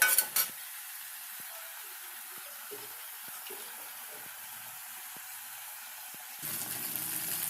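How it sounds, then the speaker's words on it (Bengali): Prawns and onion fry with turmeric and salt in a covered pan, giving a steady low sizzle throughout, with a couple of sharp clatters at the start and a louder burst of frying near the end. "তাতে আমার মাছটা আর পেঁয়াজটা দুটোই ভাজা হয়ে যাবে।"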